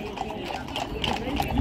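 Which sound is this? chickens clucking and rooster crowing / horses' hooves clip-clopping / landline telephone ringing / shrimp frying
horses' hooves clip-clopping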